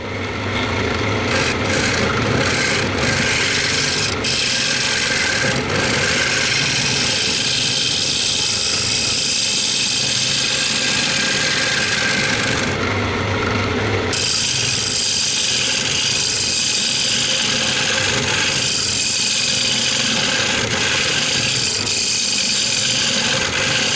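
A gouge on a wood lathe cuts a purpleheart bowl, producing a loud continuous roaring, scraping cut that rises and falls in intensity with brief breaks, close by and without talk.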